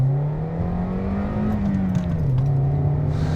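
Toyota Yaris T Sport with a 1.5 VVTi engine and short-ratio five-speed gearbox, heard from inside while driving: a steady engine drone that rises, dips and climbs again, fairly loud with no talking.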